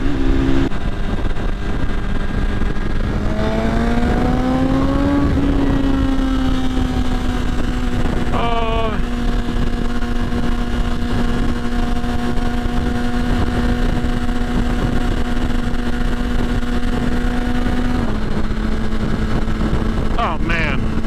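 BMW S1000RR sport motorcycle with an Arrow exhaust header, engine droning steadily at close range and rising through several revs before settling back to idle, heavy wind noise throughout.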